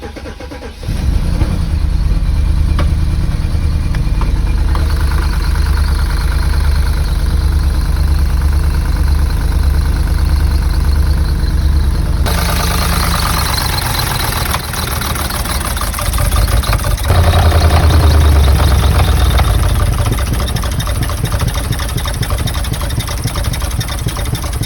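A cheap, broken V8 car engine suspected of having skipped its timing runs roughly, a loud, uneven rumble that shifts and rises partway through, close up with no talking.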